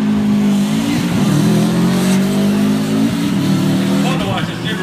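Race cars rev hard and launch together from a heads-up start in the A-Main at Langley Speedway, a Subaru sliding off the line; loud, sustained close engine roar with tire noise under people talking.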